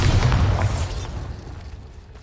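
A Bombarda spell detonates in Hogwarts Legacy, a loud close blast with a heavy low thump that swells at the start, then fades over about two seconds into a decaying rumble, with no voices.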